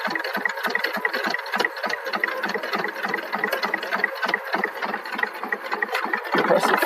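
A Jaguar JN-100 sewing machine runs steadily with a rapid, even mechanical chatter, close and continuous.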